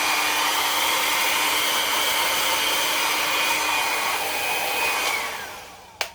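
A hair dryer blows a steady, loud whooshing roar close by for several seconds, then winds down and clicks off at the end.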